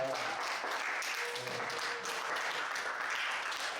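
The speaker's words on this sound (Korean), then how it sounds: "박수 한번 주시기 바랍니다." Church youth group applauding together indoors, a steady, dense wash of clapping that stays loud and even throughout without pauses.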